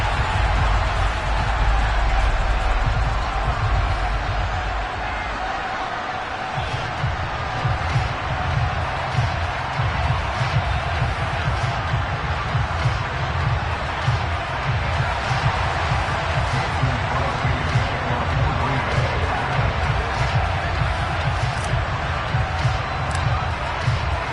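A home stadium crowd in a Madden 23 video game, New York Giants versus Green Bay Packers, cheers after a touchdown in a dense, sustained roar that stays loud throughout.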